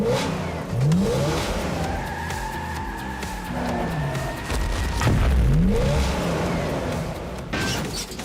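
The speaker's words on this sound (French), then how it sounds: "je vais devoir faire une petite marche arrière" An animated Hot Wheels cartoon car reverses, its engine revving in rising and falling whines with tire screeches and skids, loud and close throughout with no talking.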